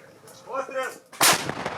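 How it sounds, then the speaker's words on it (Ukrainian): Ukrainian artillery gun firing a single loud shot outdoors, a sharp blast at mid-clip that rolls into a broad rumbling tail, after a quieter stretch of faint background noise. "Пролетів, зараз чекаємо трохи стріляємо."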